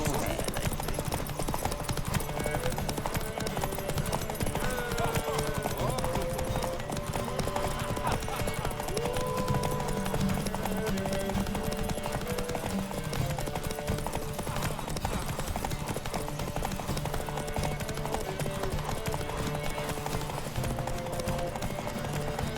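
Hooves pound in a fast, steady gallop as a horse races in The Witcher 3 video game, a continuous rhythmic drumming throughout, with an occasional snort and game music and ambience beneath.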